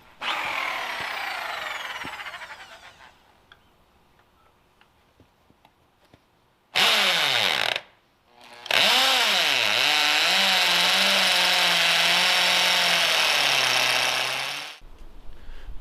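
A loud power drill whirs in bursts, slowing and speeding as it bites into wood for a barn door project, with short pauses between runs.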